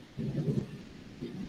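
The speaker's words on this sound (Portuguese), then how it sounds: "Agora já está trovejando aqui." Thunder rolls in a thunderstorm with rain falling, a brief low rumbling swell that fades and returns, fairly distant and soft, with no one talking over it.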